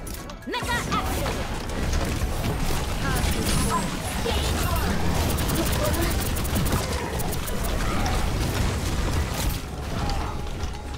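Overwatch gunfire in a competitive match, a continuous rattling stream of shots mixed with mechanical clanks and crashing effects, dense and loud, with a voice talking over it.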